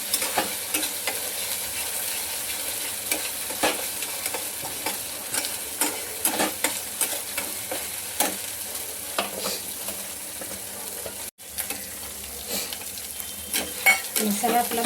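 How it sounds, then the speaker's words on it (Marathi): A spice masala of red chilli powder, Kashmiri red chilli, garam masala, turmeric and salt fries in a pan with a steady, close sizzle, broken by repeated scraping and stirring strokes. "मसाला आपला भाजला आहे आता चांगला."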